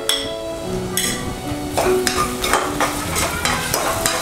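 Crushed ginger and garlic fry in oil with a steady sizzle, close by, while a metal spoon scrapes and taps the pan in repeated strokes throughout; no talking.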